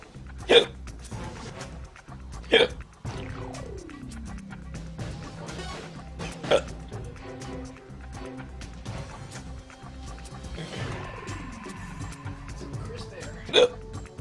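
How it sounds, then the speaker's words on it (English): A person hiccups repeatedly during a Metal Gear gaming marathon, four sharp, isolated hiccups spaced several seconds apart over ongoing talk and soft game sounds. "No, these hiccups are never going away."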